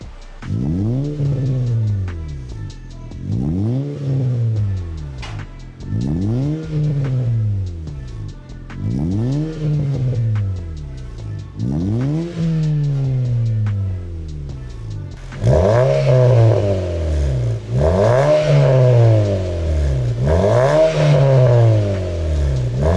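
Honda Jazz GE fitted with a custom catback exhaust, custom resonator and bolt-on Kakimoto GT Box 06&S, revved repeatedly in close, rhythmic blips about every two seconds, growing louder and raspier in the last several revs.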